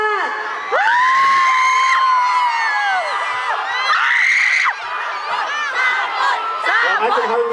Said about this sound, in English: You just say your name and people scream here.